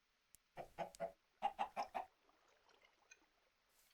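Chickens cluck in the Forever Stranded video game, a quick cluster of close, clear clucks followed by a few fainter scattered chirps against quiet background ambience.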